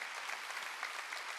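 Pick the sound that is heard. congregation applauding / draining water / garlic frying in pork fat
congregation applauding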